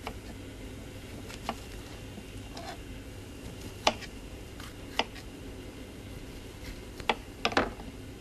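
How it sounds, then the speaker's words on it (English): A knife cuts bell peppers into three or four pieces on a board in a Caribbean cooking setting, giving a few sparse, soft chops and taps against a low steady room hum. "So what we're going to do is cut it into"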